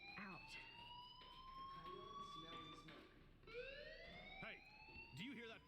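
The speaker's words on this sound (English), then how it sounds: "Hey, do you hear that fire alarm?" Electronic fire alarm in the video game Life is Strange, a steady series of rising, siren-like tones with harmonics repeating over several seconds, with a voice speaking beneath the alarm.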